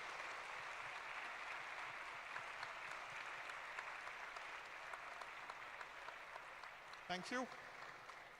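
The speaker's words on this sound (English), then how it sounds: "I would request everyone to give a standing ovation to Ashim Patil ji." A standing ovation at a research and innovation event: a large audience applauds steadily at a distance for several seconds, then a brief spoken thank-you cuts in near the end.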